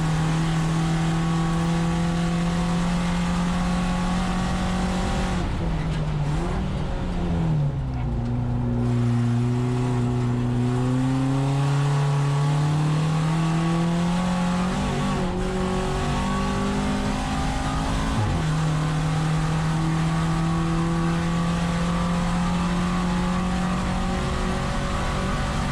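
A VW Jetta GLI Super Touring Car lapping Thunder Hill Raceway, heard from on board as a loud, sustained engine drone that climbs and drops in pitch through shifts and corners, with no talk.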